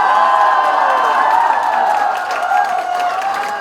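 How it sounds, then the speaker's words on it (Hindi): A crowd at a celebration event in Rourkela, Odisha, breaks into loud, sustained applause and cheering that fills the whole stretch without pause. "जोरदार ताली हो सकती है।"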